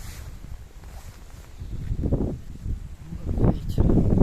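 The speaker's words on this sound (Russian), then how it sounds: "Вот ветер." Strong wind gusts through a garden, rising in rough surging bursts of rustling and buffeting noise that grow louder toward the end, with muffled microphone rumble underneath.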